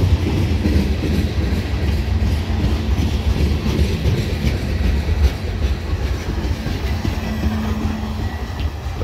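A Canadian National freight train with gondola cars rolls past close by, a loud continuous rumble with rhythmic clacking of wheels on rail joints and a faint squeal.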